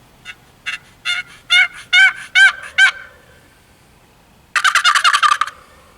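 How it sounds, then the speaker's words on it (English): A turkey gobbles loudly and close by in a string of rapid bursts, then a denser gobbling call rattles out after a short pause, with no talk. "Blue's constantly gobbling at that gobble call"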